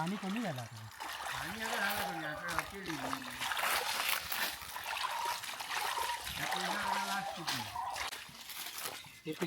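Water gushes and trickles continuously in the background while people talk loudly over it.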